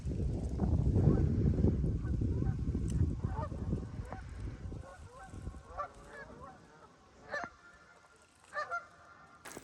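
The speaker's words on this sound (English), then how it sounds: "there's some geese down here in the corner" Geese honking by a lake, a few short calls popping up near the end after a stretch of low, rumbling outdoor noise, with faint voices in the background.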